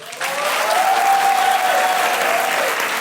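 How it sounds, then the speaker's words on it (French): An audience at a stand-up comedy show bursts into loud, sustained applause with shouts and cheers, a dense roar of clapping that holds steady for the whole stretch. "quand je vais dire je suis Bapa Oumar, vous applaudissez en criant"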